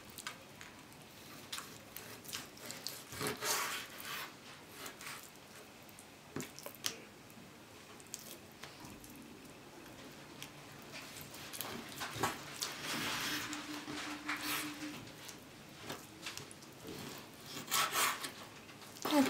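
Quiet, uneven scraping and rubbing of a knife cutting meat into roughly one-centimetre cubes on a board for goulash, with irregular cuts and soft squishy sounds.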